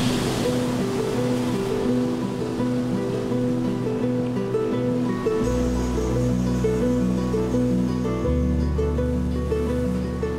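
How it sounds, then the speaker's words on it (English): Pacific Ocean waves wash beside an ancient coastal city, a steady surf rush running throughout, partly under sustained low musical tones that shift midway. "Lying alongside the city of Chan Chan is the mighty Pacific Ocean"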